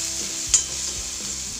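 Filling sautéed in a pan with ground chilli paste and asafoetida for Solapuri puranawal, a steady close sizzle and hiss with a couple of sharp scraping stirs against the pan, no voices.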